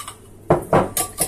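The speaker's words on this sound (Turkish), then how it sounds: "Şöyle güzelce çırpıyorum, bakın." Homemade yogurt being whisked in a small pot for soup, giving a few distinct clinking, scraping strokes of the whisk against the pot, close and fairly loud, with brief pauses between them.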